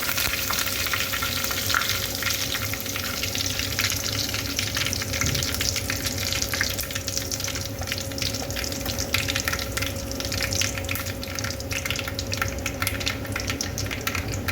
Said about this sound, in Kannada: ನೋಡಿ, ಸಾಸಿವೆ ಚಟಪಟ ಶಬ್ದ ಬರ್ತಾ ಇದೆ.